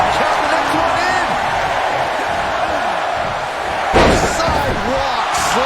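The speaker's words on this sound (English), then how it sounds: "Sidewalk slam delivered." A sidewalk slam in a wrestling video game, with a thudding impact landing over a steady roaring arena crowd and cheers, the slam standing out briefly amid the constant crowd noise.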